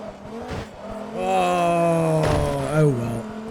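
Hennessey Viper sports car in Forza Motorsport 2, engine note rising and falling in steady harmonic tones, with tire squeal, up close and fairly loud.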